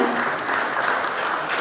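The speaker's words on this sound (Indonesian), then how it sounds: "sekali lagi kita berikan tepuk tangan yang paling meriah untuk anugerah budaya 2013" A crowd at the 2013 Jakarta culture award ceremony applauds in a continuous, even burst of clapping, brief but loud and steady.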